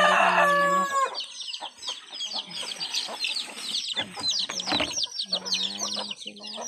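Chickens cluck and squawk continuously nearby in a rural yard, several birds overlapping in a busy, lively chorus.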